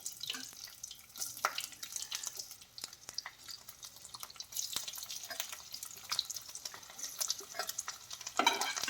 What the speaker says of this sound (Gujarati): તેલ ગરમ થાય એટલે આ બધા જ કારેલાને એમાં આપણે મૂકી દઈશું